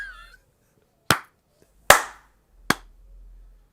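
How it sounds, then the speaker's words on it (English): Three separate sharp hand claps ring out alone, evenly spaced and close, each with a short decay into near silence, after a brief faint voice at the start. "We're clapping, boys."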